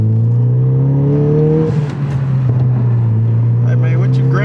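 A 10th-generation Honda Civic Si with an aftermarket Skunk2 downpipe and front pipe and a blow-off valve drones loudly at steady revs, the engine note shifting pitch partway through while a person talks over it.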